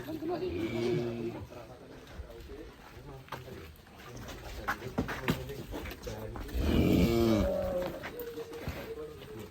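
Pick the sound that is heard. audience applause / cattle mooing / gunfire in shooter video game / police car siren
cattle mooing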